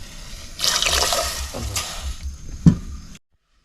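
Water is poured to rinse out a stone mortar after pounding, a steady splashing pour lasting a few seconds with a brief sharp knock near the end, then silence.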